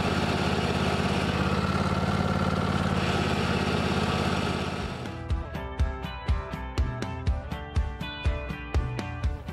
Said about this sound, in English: Hopefully you can hear this in the video, but it's making quite a bit of noise.